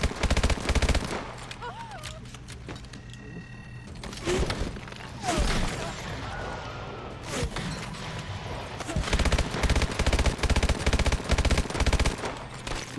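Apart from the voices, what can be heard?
gunfire from suppressing fire in Call of Duty: Advanced Warfare video game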